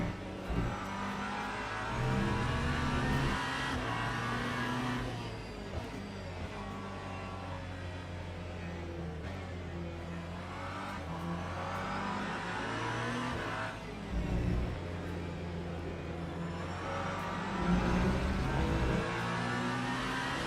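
A Ferrari endurance race car in a sim racing game, its engine droning steadily through long revving pulls with pitch rising and falling between gear changes, loud and continuous.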